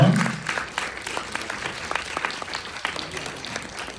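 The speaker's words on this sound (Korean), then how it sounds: "그럼 박수 부탁드릴게요" A film festival audience at a graduation screening applauds as the director and crew walk up, steady moderate clapping from a seated crowd throughout, with a short voice at the very start.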